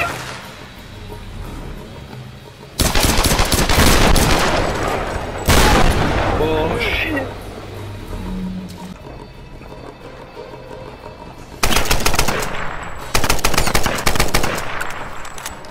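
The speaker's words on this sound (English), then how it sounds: "This machine gun is such a fucking untargeted machine gun." Automatic gunfire from a machine gun in Tomb Raider Definitive Edition, loud sustained bursts of rapid shots separated by quieter stretches of game ambience.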